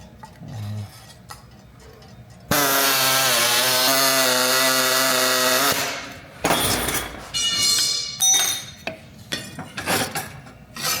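A loud, high-pitched air saw buzzes steadily through an oiled sheet-metal car fuel filler panel for a few seconds, followed by shorter bursts of cutting and scattered clanks.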